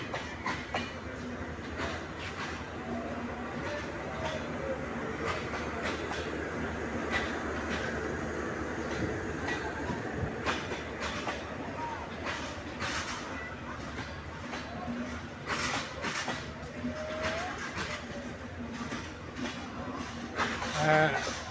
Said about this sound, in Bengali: এখনই ট্রেনটি ছেড়ে দিচ্ছে।